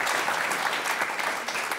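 Continuous, full applause from an audience at a Yamaha Genos keyboard premiere featuring Peter Baartmans, dense clapping heard alone and close.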